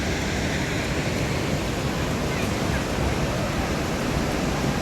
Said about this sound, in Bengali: কত উপর থেকে জলটা পড়ছে।